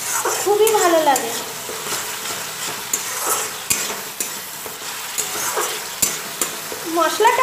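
Spice paste with green chili paste, for a Bengali bhola fish curry with coriander leaves, fries loudly in a pan, a constant close sizzle broken by repeated spoon scrapes and knocks as it is stirred.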